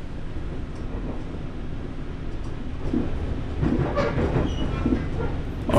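A train rolls steadily through a video game world, its wheels clacking in a loud, continuous rumble that grows slightly louder toward the end.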